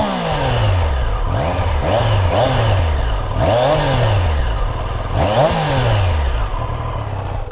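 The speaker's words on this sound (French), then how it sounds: "Je vais vous faire écouter le son de la ligne. Moteur 3 cylindres que vous allez retrouver sur la Trident 660 et aussi sur la Tiger 660" Triumph Daytona 660 motorcycle with a 95-horsepower three-cylinder engine, revved repeatedly through its exhaust: four rising-and-falling rasping blips in a row, loud and close, with no talk.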